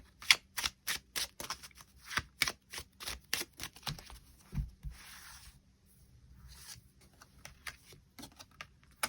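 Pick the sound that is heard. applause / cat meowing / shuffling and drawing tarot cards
shuffling and drawing tarot cards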